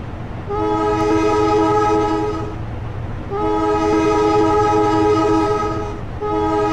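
In Trainz Simulator 12, a passing train sounds its horn in long repeated blasts over a steady rumble of rolling wheels, loud and close.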